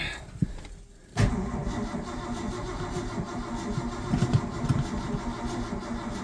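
A 1984 Ford F250 engine cranks on a start attempt. After a second of near quiet, the starter kicks in abruptly with a loud, steady, pulsing crank that continues to the end.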